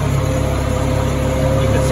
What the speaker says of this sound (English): It's the gas engine.